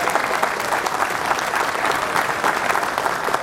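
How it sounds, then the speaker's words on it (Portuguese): An audience at a public security event in São Paulo applauds to welcome a federal deputy, a steady, moderately loud round of clapping from a crowd. "precisamos receber assim com uma salva de palmas"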